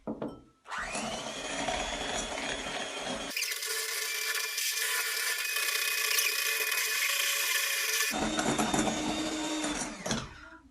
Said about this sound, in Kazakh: Екеуін жақсылап миксерлейтін боламыз